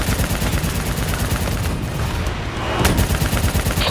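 Heavy gunfire in Call of Duty Black Ops 3, aimed at a VTOL aircraft during a firefight with infantry, rattles on continuously and loudly, with dense overlapping bursts and booms throughout.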